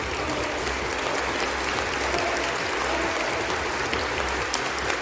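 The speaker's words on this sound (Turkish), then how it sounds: "Kızgın alkışlar içinde sahneye çıkan Nursimangül Abdirişit" An audience at an East Turkestan community gathering gives sustained, steady applause as a young woman steps up to the podium, a dense even clatter of many hands throughout with no talk.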